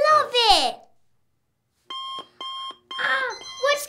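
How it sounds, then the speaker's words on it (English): Lego Batman Movie minifigure alarm clocks go off with bursts of electronic beeping and childlike character voice chirps, loud and close, separated by a brief silence. "Oh, those are alarm clocks."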